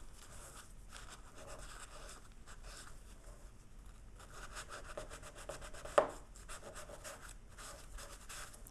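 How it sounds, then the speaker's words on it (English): A dry paper towel rubs back and forth over a small stamped metal necklace piece, giving a steady close scratchy swishing with one sharper tap partway through. "rub the dry paper towel over it"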